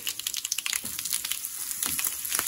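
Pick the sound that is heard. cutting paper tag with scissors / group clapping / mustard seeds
mustard seeds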